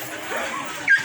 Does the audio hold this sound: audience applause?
no